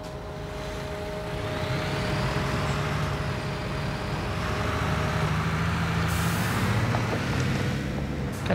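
A truck in a PC construction simulator game rumbles steadily close by, engine droning throughout, with a sharp hiss of air brakes releasing near the end; no one speaks.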